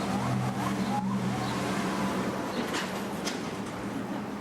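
Loud Baltimore street traffic with cars rumbling and passing close by, a steady roar of engines filling the whole clip.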